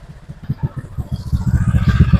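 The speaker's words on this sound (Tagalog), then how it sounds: "umingay yung makina niya" A Honda ADV150 scooter with an overheating problem idles loudly while warming up, its engine giving a close, rhythmic low thumping that grows stronger and denser over the couple of seconds.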